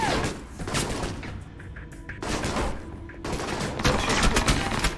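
Heavy gunfire from the Alpha Protocol video game, rattling off in dense, loud bursts that crackle across most of the clip, with short gaps and no talking over it.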